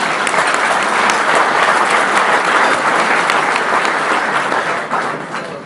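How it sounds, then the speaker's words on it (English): An audience at a Wichita KU luncheon applauds in a loud, dense, sustained round of clapping that carries steadily for several seconds before starting to taper off near the end. "So give yourself a round of applause for that"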